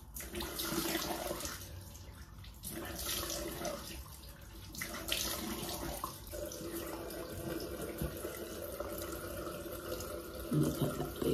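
Cold water runs steadily from a bathroom tap into a sink during a morning face wash, a continuous close splashing rush with slight shifts as hands move through the stream.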